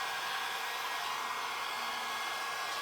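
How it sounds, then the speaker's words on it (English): A heat gun blows continuously up close, a steady broadband rush of air with a faint motor hum and no change in level. "Did I break another heat gun?"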